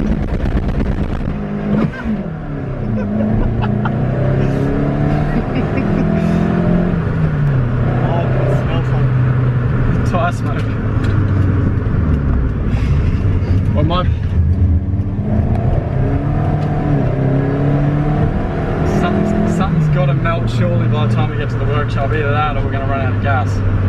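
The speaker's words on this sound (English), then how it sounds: "We're gonna do a first gear takeoff." A Toyota Starlet running a 75 shot of nitrous revs and pulls away in first gear, its engine note rising and falling loudly through repeated climbs under almost constant talking from people nearby.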